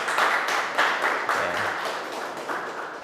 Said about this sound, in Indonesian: Oke, kita tepuk tangan untuk Wahyudi dan Nazmi ya, keren.